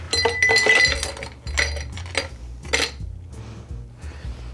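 Fresh ice clinking and clattering into a hurricane glass for rum punch, a burst of bright glassy knocks followed by a few sharper separate clinks, close and alone.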